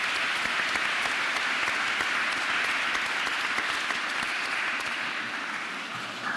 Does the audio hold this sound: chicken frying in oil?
no